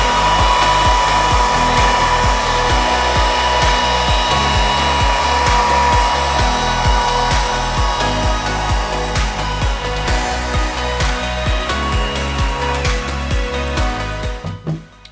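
A hair dryer blows on fresh paint on a ceramic brick-effect vase, making a loud, steady whine with a rhythmic pulsing flutter before it cuts off at the end.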